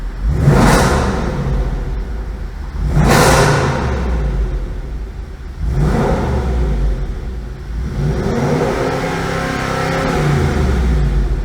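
A deep supercharged V8 in a 2019 Jaguar F-Pace SVR revs hard three times in a row with exhaust closed, each surge climbing then falling back, followed by a steadier, slightly higher hold.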